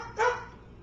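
A dog gives one short, sharp bark, near and fairly loud, with quiet room tone before and after.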